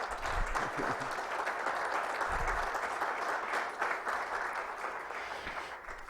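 Audience at a history symposium on the Strait of Magellan bursts into continuous applause, a thick wash of clapping with a few louder nearby claps and low thumps, holding steady without speech.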